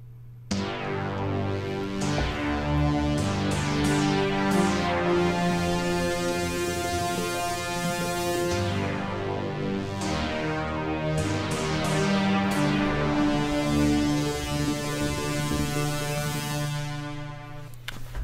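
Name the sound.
Green Lantern theme on synthesizers, sci-fi orchestral score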